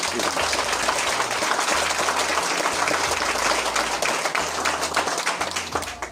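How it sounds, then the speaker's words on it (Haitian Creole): An audience at a formal ceremony in Haiti claps for M. Poléon: dense, sustained applause from a sizable crowd, steady throughout and tapering slightly at the end. "je vous demande d'applaudir M. Poléon"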